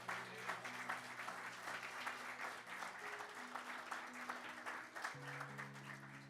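A church congregation gives a sustained round of applause for the Lord during a sermon, with dense steady clapping and a few faint background tones underneath.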